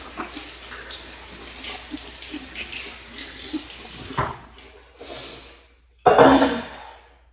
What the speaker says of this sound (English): So, wash my hands.